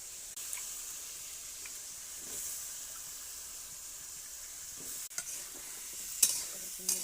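Radish pieces fry in spice masala in a pan, a soft continuous sizzle under slow scraping stirs, with a couple of louder clinks of the spoon near the end.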